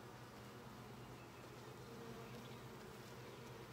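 Honeybees crawling over a hive frame during an inspection, a faint, continuous buzzing hum that stays even and low throughout with no voices.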